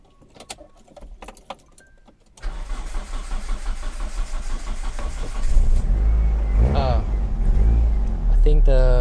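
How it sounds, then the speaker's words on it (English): A Peugeot 405 Mi16 with a 1.6 engine is slow to fire, cranking and then catching after a few seconds and settling into a loud, steady idle with occasional revs, close by, while people talk over it. "Okay, let's start her up."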